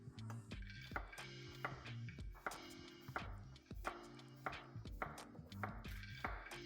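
Knife dicing green papaya on a cutting board, a steady series of sharp, close chopping knocks at an even quick rhythm, with no talking.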